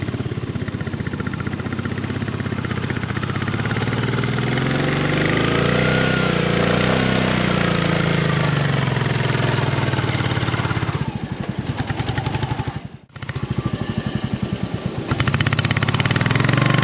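A motorcycle engine runs steadily and loudly up close as the bike sits stuck in loose beach sand at a sea beach resort, with a brief dip near the end before it continues.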